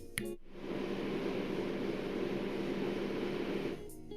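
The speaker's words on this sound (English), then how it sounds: "because the engine room sounds like this" Ship engine room machinery gives a loud, steady broadband roar and hum that fills the space without pause and cuts off abruptly near the end.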